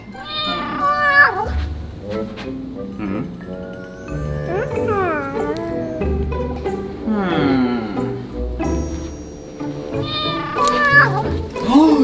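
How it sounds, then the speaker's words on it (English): A cat meows repeatedly in drawn-out, wavering cries, close and fairly loud, with a few short background noises between calls. "Oh, the cat!"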